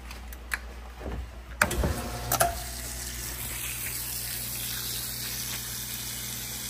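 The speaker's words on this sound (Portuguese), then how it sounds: "Entrada de água para enxaguar com amaciante" An Electrolux Top8 (LE08) top-loading washing machine takes in water for the fabric-softener rinse, a steady rushing fill after a few brief clunks and knocks at the start.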